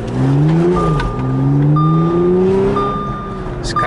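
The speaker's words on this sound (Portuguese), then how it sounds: "Esse carro tem um barulho de motor feroz, tá legal?" An Audi S5 quattro's supercharged 3.0L V6 engine revs up and down, its pitch climbing and falling loudly and close, with a thin whine riding over the roar.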